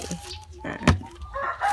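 Young laying hens on a backyard farm, with brief clucks and a sharp squawk among soft scattered fowl calls, fairly close and quiet, with faint background voices.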